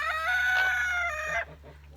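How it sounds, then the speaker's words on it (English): A free-ranging silkie rooster crows once, loud and close, a single sustained call lasting over a second before cutting off to quiet ambient noise. "That was one of our silky roosters."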